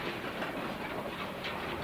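A Southern Pacific train on the coastline near Grover rumbles into a siding, a continuous close rolling roar with rhythmic wheel clatter and no pause.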